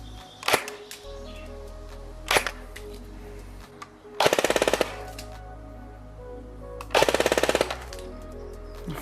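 An ARES L85A2 (AR-003) airsoft gun fires up close: a few single clacking shots, then two rapid full-auto bursts of about a second each, with a faint mechanical whir between.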